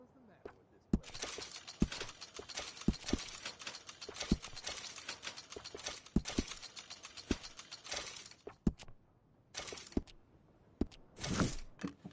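At a gunsmith in Red Dead Redemption 2, gun parts are fitted with a run of close metallic clicks, ratchets and sharp clacks, dense at first and then in short separate bursts, with speech faintly mixed in.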